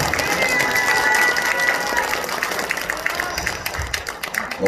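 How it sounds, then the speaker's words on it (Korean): A church congregation claps in scattered, sustained applause that gradually thins out, with a murmur of voices underneath. "큰 박수 합시다."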